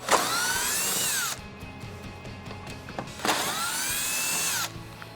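A power driver fitted with a T40 Torx bit runs in two bursts of about a second each, backing out the front bolts on a Jeep Wrangler JK. Each burst whines up loud and close, with a short quiet gap between them.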